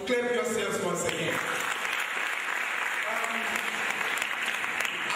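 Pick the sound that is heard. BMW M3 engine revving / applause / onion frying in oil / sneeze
applause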